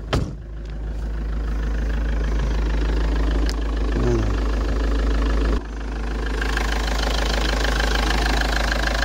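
A Sofim 2.8 litre diesel engine in a camper van idles steadily and loud nearby, its knocking clatter continuous throughout with a brief dip midway.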